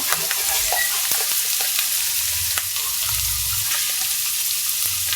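Onion and cumin paste sizzles in a pan as turmeric powder goes in for a Bengali fish curry, a loud steady frying hiss with scattered stirring clicks and scrapes and no voices.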